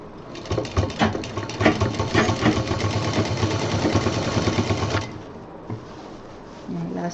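A sewing machine stitching a diaper bag with elastic and a zipper runs in a fast, rattling burst for about five seconds, then stops, leaving a brief quiet with small handling sounds.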